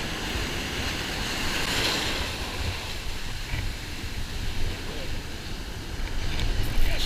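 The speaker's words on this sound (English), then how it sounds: "the waves are dumping pretty close to shore" Waves dump close to shore on a beach in a steady roar of surf, with wind buffeting the microphone throughout.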